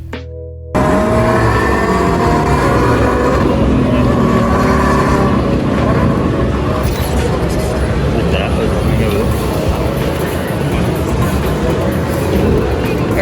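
A modified car's aftermarket exhaust revs loudly and continuously at the Tokyo Auto Salon show, a dense, rumbling roar that fills the whole stretch amid crowd noise.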